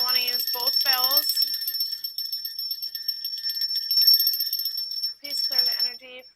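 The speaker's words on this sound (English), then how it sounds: "I want to use both bells." A bright bell rings and sustains with a long shimmering tone, and a voice talks briefly before and after it.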